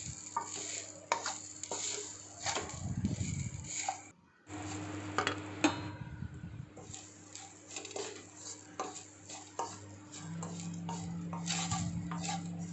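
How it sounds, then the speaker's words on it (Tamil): A spoon scrapes and clinks against a pan as grated coconut is stirred and roasted over a medium flame, with irregular metallic taps and soft sizzling, close and fairly quiet, and no talking. "நல்லா அடியில் பிடிக்காமல் மீடியம் ஃப்ளேமில் வச்சு நம்ம கிளறி விட்டுட்டே இருக்கலாம்."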